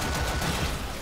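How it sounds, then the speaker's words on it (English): Rapid gunfire in the Warframe shooter game, a brief close burst of dense overlapping shots. "someone's shooting the crap out of me"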